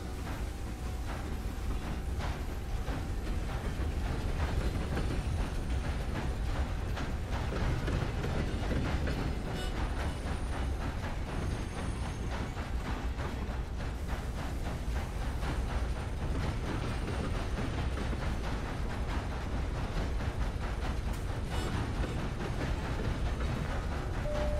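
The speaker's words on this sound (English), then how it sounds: "So let's fire this puppy up and see if we can get the train moving" A train rolls steadily along the tracks in the video game Red Dead Redemption 2, giving a continuous, dense rumble and rattle at low volume that stays even throughout.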